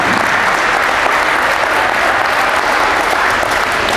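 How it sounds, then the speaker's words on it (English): A crowd at a basketball camp in a gym breaks into a dense, steady round of applause, loud and unbroken for the whole stretch, with no voices standing out. "everyone give JT a big round of applause for giving us the gym."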